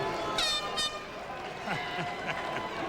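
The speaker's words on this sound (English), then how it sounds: "Oh, the air horns are in here." Short honking air horn blasts sound over crowd noise and overlapping talk in a large, echoing arena at the 1997 NFL Draft.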